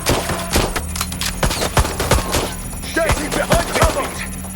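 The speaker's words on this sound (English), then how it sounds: "They're shooting at me." Rapid gunfire in the video game Watch Dogs: Legion, a close, loud burst of many sharp shots in uneven clusters, with brief voices mixed in.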